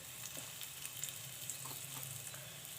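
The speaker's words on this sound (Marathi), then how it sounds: "हे आपल्याला मीडियम फ्लेमवरती तळायचे" Potato slices in a semolina coating fry in hot oil over a medium flame, giving a steady, soft sizzle with faint crackles and no voices.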